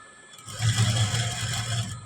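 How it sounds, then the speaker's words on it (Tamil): A sewing machine stitches a blouse, running as a steady close whir for under two seconds after a brief quiet start. "இப்போ இந்த வி வரைக்கும் தைக்கிறேங்க"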